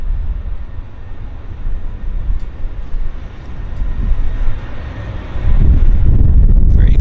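An Air North Boeing 737-800 departs Vancouver International Airport on its first departure, a broad low jet roar heard from a distance through wind buffeting, building louder toward the end.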